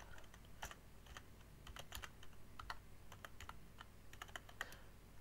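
Irregular keystrokes on a computer keyboard, clicking in small clusters with short pauses between them. Fairly quiet and close, with no talking.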